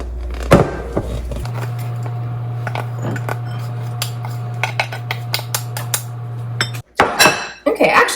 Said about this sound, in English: I'm just going to scoop this out into 2 different bowls